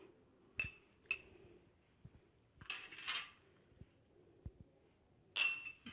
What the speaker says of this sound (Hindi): तो हम इसमें 1 चम्मच दही का ऐड कर देते हैं।